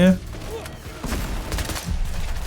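Gunfire in the heist shooter Payday 3: rapid, clustered shots crackle through a noisy game mix, loud and close, with a voice over the start.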